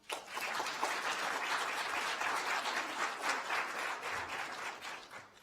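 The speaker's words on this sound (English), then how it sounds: "round of applause" Steady, dense applause from a crowd greeting the Reverend Dr. Martin Luther King Jr., sustained at full strength for about five seconds with no voices over it.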